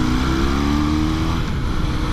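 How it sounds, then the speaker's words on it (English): A Kawasaki KZ400 motorcycle idles and burbles steadily through its carburetors and exhaust, a close, loud, continuous mechanical rumble with no voices. "I really like the sound of the carbs with the exhaust."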